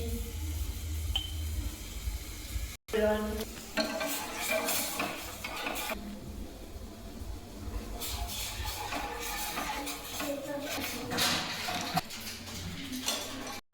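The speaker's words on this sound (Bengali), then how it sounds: "এবার দিয়ে দিচ্ছি চা পাতা, এই দেখো চা পাতা দিয়ে দিচ্ছি।" Tea is brewed in a pot in a home kitchen with a little sugar and loose tea leaves, bringing quiet stirring, scraping and the clink of utensils against metal, with a few sharper knocks.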